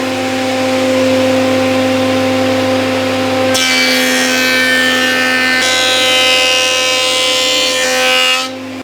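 Jet woodworking machine planing rough sawn timber: a loud, steady motor whine, then a harsh, rising cutting roar as the board feeds through, easing off near the end.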